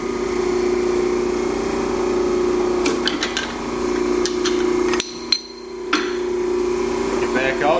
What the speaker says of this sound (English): the bender pretty much does all the work for us